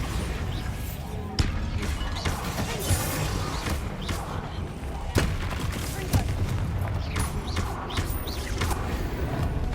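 Bombarda explosion spells burst during frantic combat in the video game Hogwarts Legacy, loud cracking impacts landing amid a dense, continuous clatter of battle effects, with a voice heard in the mix.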